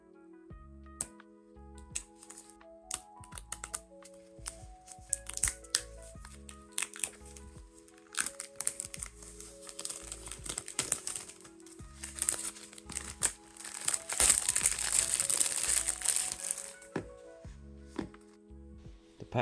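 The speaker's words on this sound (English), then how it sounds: "let's open the box and see what's inside" Packaging for a DJI Mic Mini wireless microphone is opened nearby: crinkling, rustling and small taps and scrapes in irregular bursts, busiest near the end, over a faint steady background.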